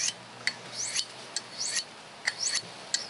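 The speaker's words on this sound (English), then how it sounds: "Wipe off my whetstone." A knife whetstone is wiped off with short, repeated rubbing swipes, each a soft scraping stroke, close and faint in an otherwise quiet room.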